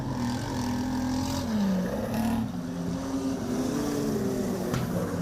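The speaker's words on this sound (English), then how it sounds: "the Trent Martin car, sounding a little ordinary as it came across the start-finish line" A wingless sprint race car engine on the Lismore Speedway dirt track drones and shifts pitch, slightly rough, as it laps and passes with a steady loud roar and background crowd noise.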